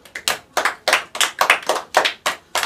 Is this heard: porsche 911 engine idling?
no